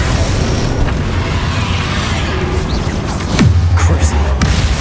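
Bombarda and Confringo spell explosions in the Hogwarts Legacy video game rumble with deep booms under continuous game noise, and a heavier blast lands near the end.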